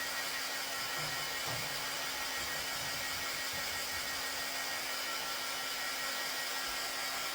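Hair dryer blowing steadily on a craft pillow layer to dry it, a continuous broadband whoosh with a faint motor hum, close and unbroken throughout.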